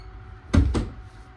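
An indoor door shut during a story about a cut thumb, heard as two close, heavy thuds in quick succession over a quiet room, loud and near with no talking.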